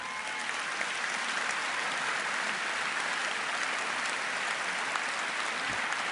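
Sustained applause from an audience at a Libertà e Giustizia gathering in February 2011, a dense, steady wash of clapping hands lasting several seconds without letting up.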